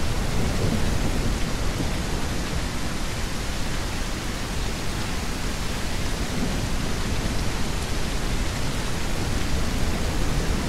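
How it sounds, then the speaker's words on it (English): Heavy rain pours in a video game, a dense steady wash of downpour with low rumbling thunder underneath, loud and continuous throughout with no voices. "being absolutely rained on."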